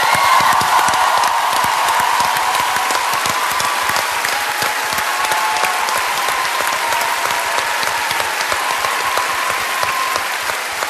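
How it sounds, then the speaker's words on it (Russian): A large audience applauds the mothers at a 2012 KVN comedy show by the team Parapaparam during its musical round, with dense, steady clapping and faint cheering that fill the hall at a constant high level throughout. "эти аплодисменты сегодня мамы для вас"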